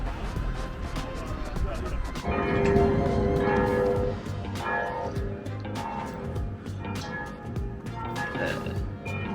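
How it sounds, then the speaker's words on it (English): Sunday church bells ring a tune at nine o'clock before a long-distance bikepacking race, their repeated tolls carrying clearly over background chatter and bustle. "Magical Sunday church bell ringing tune at 9 o'clock"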